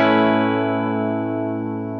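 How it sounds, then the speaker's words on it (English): Clean electric guitar chord strummed through a compressor pedal into an amp set just at the edge of breakup, ringing out alone and sustaining smoothly as it slowly fades over two seconds. "Let's hear just what your clean sound is, just your compressor, cool, couple chords"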